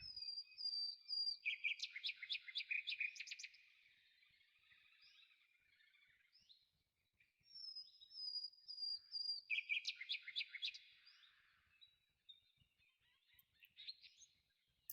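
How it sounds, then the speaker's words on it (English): Birds singing in the VRChat world Wistful: two bursts of bright trilling chirps and whistles, separated by a quieter pause, clear and fairly close over near silence. "Birds are singing."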